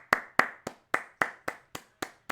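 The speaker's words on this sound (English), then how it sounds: "Round of applause to the old champ, Efren." Sparse rhythmic hand claps, about nine sharp claps at an even pace, close and distinct, from a viewer applauding a wrestling champion during a WWE Raw live reaction.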